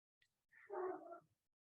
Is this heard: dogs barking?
yes